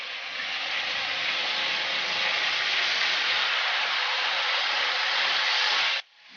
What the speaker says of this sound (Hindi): तो ये हमारे मिनी से स्टेक बन रहे हैं इस वक्त, काफ़ी साउंड आ रही है इसकी।